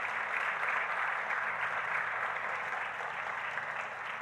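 A church congregation claps in a continuous, moderately quiet wash of applause that stays steady and fades slightly toward the end, with no one speaking.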